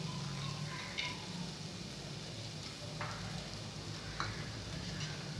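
Toor dal tipped into a pan of sautéed tomatoes sets off a soft, even sizzle, broken by a few light clinks and scrapes of a stirring spoon against the pan.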